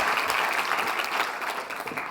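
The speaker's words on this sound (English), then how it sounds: "Can we get a big round of applause," Sustained audience applause at a climate and health conference plenary, dense steady clapping from a large crowd welcoming a speaker, fairly loud and continuous throughout with no talk over it.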